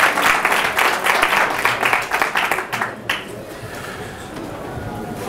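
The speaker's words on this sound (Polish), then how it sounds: "gorące brawa za niego" Warm audience applause at a public-speaking lecture on argumentation and rhetoric, dense and loud for about three seconds, then quickly fading into quiet room tone.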